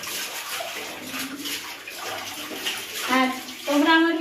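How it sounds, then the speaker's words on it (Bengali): Clothes washed by hand in water make splashing and sloshing sounds in short bursts, with a voice talking faintly at times. "আমি এখানে জামাকাপড়গুলো ধুয়ে নিচ্ছি"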